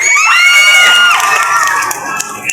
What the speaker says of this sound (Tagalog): nais ko po bang masaksihan at marinig ang inyong masigabong palakpakan at hiyawan